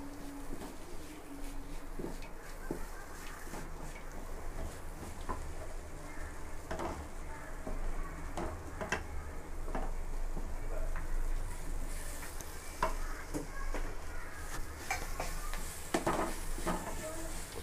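Spice paste ingredients for Chettinad chicken curry sauté in a pan, with a steady soft sizzle, scattered stirring clicks and scrapes of a utensil on the pan.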